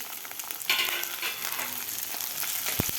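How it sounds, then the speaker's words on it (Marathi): Green chilies frying in hot oil with garlic, a steady low sizzle with a brief louder burst as they stir, plus a couple of sharp clicks near the end. "आता आपल्याला ही मिरची व्यवस्थित डाग पडेपर्यंत आपल्याला हे तेलामध्ये भाजायची आहे"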